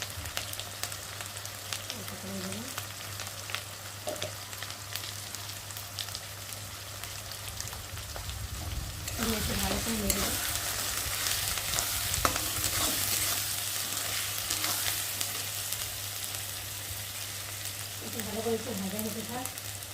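Chicken and potatoes fry in a pan with spices and ground chili, a continuous sizzle that swells louder midway, with the scrape of a utensil stirring now and then and a voice speaking briefly.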